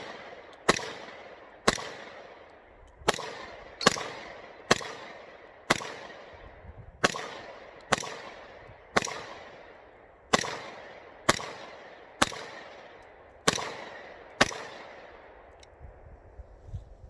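Single shots from a Smith & Wesson SD9VE pistol near 300 rounds fired, about fourteen sharp loud reports spaced roughly a second apart, each ringing off briefly, with no talk.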